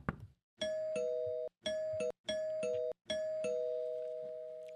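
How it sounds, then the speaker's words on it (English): A doorbell rings indoors with four quick repeated electronic chimes, the last one fading slowly, after a soft knock-like thump at the start; no one speaks. "I swear I have a doorbell here somewhere."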